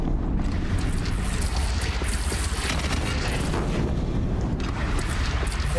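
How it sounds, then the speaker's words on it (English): A cannon firing in Horizon Zero Dawn booms through a continuous roar of battle noise, heavy low rumbling blasts blending into one dense, loud wash with no clear gaps. "They only have one cannon!"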